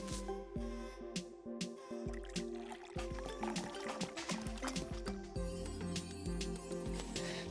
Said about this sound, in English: pour oil into a small bowl